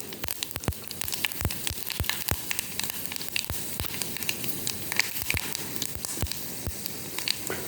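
Mustard seeds, urad dal and fenugreek seeds frying in hot oil for a sambar tempering, giving a steady sizzle punctuated by frequent sharp pops and crackles as the seeds burst.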